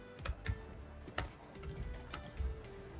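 Computer keyboard typing while writing text in Canva, a close sequence of sharp, irregular key clicks scattered over a few seconds against quiet room noise.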